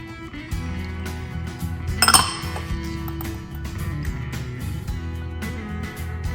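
Small clinks and taps of utensils against a bowl, with a sharper ringing clink partway through, over a steady low background hum.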